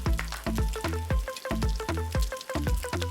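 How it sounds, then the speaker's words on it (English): Ground beef meatballs, 80% lean and 20% fat, fry in their own rendered fat in a pan, giving a close, loud, continuous sizzle with rhythmic popping bursts roughly twice a second. "They're cooking in their own fat."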